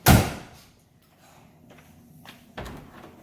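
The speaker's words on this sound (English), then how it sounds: "We can open the trunk." Trunk lid of a 1967 Chevelle popping open with a sharp metallic clunk at the start, followed by quieter rattles and a second soft thud near the end in a garage.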